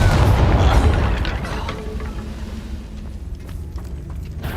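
Confringo explosion spell in Hogwarts Legacy, a loud booming blast at the start that rumbles and slowly fades into a lingering roar with faint crackles, no talking.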